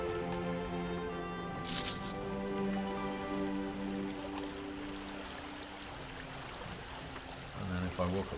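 Water rushing steadily in a continuous broadband wash, a video game river sound, with a brief bright splash early on and faint tonal hum underneath.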